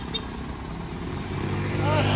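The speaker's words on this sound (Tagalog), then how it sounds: "Padanin muna natin itong mga motor." Motorcycles pass close by on a road near a small dump site, a steady engine drone that swells louder toward the end, with voices talking over it.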